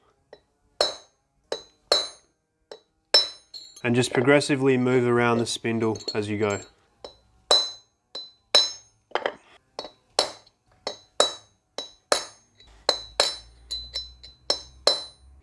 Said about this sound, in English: And then you just want to hit that drift with a hammer.